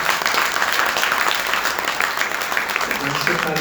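An audience at an Arya Samaj sermon gathering breaks into dense, continuous applause, a loud, full crowd roar of overlapping claps with talking mixed in underneath.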